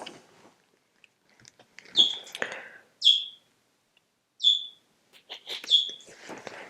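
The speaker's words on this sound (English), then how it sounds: "I don't know if you can hear my bird Crichton." Bright, high bird chirps come in short separate bursts, several calls spaced a second or so apart, fairly close, with no talking.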